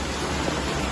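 Rain keeps falling during local flooding, a steady, even wash of broadband noise with no voices for about a second.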